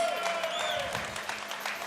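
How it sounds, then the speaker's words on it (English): Faint, distant applause from the audience at an amateur fight event after a bout goes the full distance, a steady wash of clapping with no voices standing out. "Folks, round of applause for the boys going the distance."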